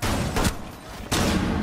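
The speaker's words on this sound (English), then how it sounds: "Flashbang." A flashbang grenade detonates in the video game Rainbow Six Siege: a brief sharp burst followed by a second loud, sustained blast, close and harsh, with no talk over it.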